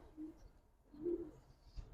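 Giribaz pigeons in a home loft give two soft, low coos, one short and one longer, faint and fairly close, against a quiet background.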